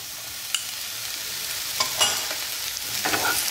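Mushrooms and two small onions sauté over a full flame, sizzling softly and steadily in the pan. A few sharp scrapes and clicks of stirring punctuate the sizzle, close by.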